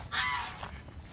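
A goose honks once on a small farm among goats and chickens, a short nasal call heard at moderate distance over a quiet outdoor background.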